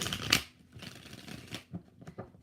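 A tarot deck gets one brisk shuffle that opens with a sharp riffle, followed by lighter card-handling rustles and soft taps, close and fairly quiet.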